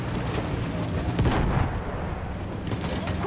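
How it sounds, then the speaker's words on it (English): Heavy gun firing in Battlefield 1, a rumbling booming blast swelling in the middle of a continuous roar of combat noise, with a voice faintly under it. "Quickly, shut down that gun."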